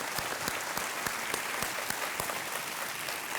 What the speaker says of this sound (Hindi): तालियों के साथ इनका अभिनंदन हम करते हैं